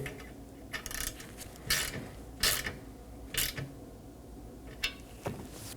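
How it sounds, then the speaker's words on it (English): A ratchet with an E7 socket snugs down a mounting stud on the A/C condenser of a 2018-2024 Chevrolet Equinox, giving about six short, crisp bursts of clicking at close range over a steady background hum. "snug it down with my E7 socket"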